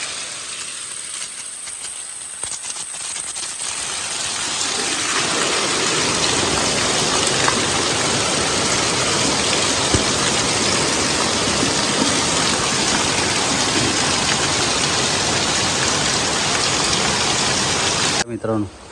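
A heavy monsoon downpour in a Konkan village in Devgad begins fairly light, then swells after a few seconds into a loud, close, constant roar of rain that holds until a sudden cutoff near the end.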